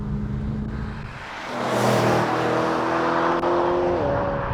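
A BMW E92 M3 GTS driving with its engine revving loudly and steadily, rising in pitch as it accelerates and shifting gears partway through, close and continuous with no talk.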